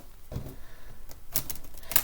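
Tarot cards being shuffled by hand make soft, close riffling and slapping sounds in short bursts, quiet and without speech.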